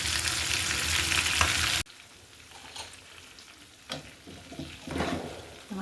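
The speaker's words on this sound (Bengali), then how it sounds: "দেখতে পাচ্ছেন এক পাশ কিন্তু সুন্দর করে ভাজা হয়ে গিয়েছে, অপর পাশে কিন্তু আমি এইভাবে করে ভেজে নেব।" Chicken pieces frying in a pan as part of a party recipe with beef, broccoli and long beans; a loud hissing sizzle stops abruptly, then quieter crackles and stirring clatter follow.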